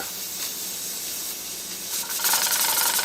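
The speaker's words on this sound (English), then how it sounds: "when the control jiggles telling you it's up to 15 pounds of pressure" A pressure cooker at 15 pounds of pressure, cooking crowder peas, gives off a continuous steam hiss that swells into a louder, rattling spray of steam toward the end as the control weight jiggles.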